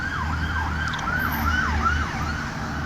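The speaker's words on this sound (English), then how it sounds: "Wait for this ambulance to pass by here." An ambulance siren wails as it passes along a Bogota street, its rising and falling sweeps repeating steadily and loudly over a low rumble of traffic.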